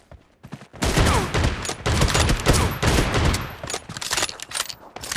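Rapid gunfire from the video game PUBG, a dense, loud fusillade of overlapping shots in bursts with brief gaps, continuing almost without pause.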